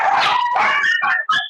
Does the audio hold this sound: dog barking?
yes